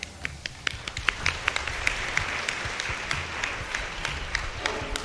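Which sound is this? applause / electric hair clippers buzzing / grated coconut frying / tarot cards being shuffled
applause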